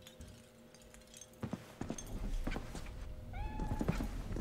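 A cat in Cyberpunk 2077 gives a short rising meow near the end, over game ambience with soft thuds and clinks.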